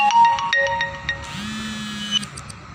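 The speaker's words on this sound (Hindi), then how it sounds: "ये कहीं से फ़ोन आ गया, टुल टुल बजने लगा" A mobile phone ringtone plays as a string of short electronic beeps, then a held chiming tone, at moderate volume with faint background noise.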